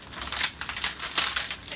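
Flexible multi-laminate plastic packaging being handled for recycling, producing close, steady crinkling and crackling in quick irregular bursts, with no talk.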